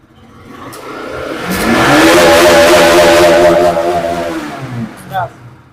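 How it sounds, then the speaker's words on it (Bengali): A motorcycle engine starts in a showroom and idles loudly up close, rising then settling into a steady running tone before it fades, with a clack near the end. "দেখুন গাড়ি এখন ইঞ্জিন স্টার্টে, দেখুন ইঞ্জিন এখন স্টার্ট"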